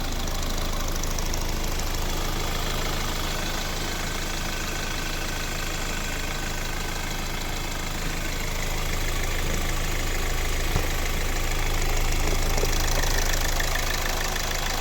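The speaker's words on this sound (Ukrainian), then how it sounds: "Ось робота двигуна." A 2013 Hyundai i40 1.7 CRDi diesel engine idles steadily with a rough, knocking rumble, running continuously and evenly at close range without any voices.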